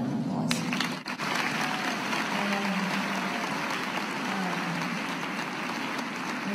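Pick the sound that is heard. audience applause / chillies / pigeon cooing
audience applause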